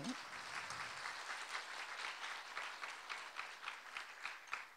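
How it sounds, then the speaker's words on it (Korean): A congregation at an evening church revival service applauds, with faint, distant, dense clapping that holds for several seconds. "이럴 때는 박수를 해야 되는 건데"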